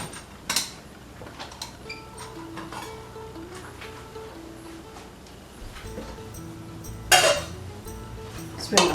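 Pasta and peas spooned into a bowl: sparse light clinks and taps of a spoon against dishware, with a couple of sharper metallic clinks near the end.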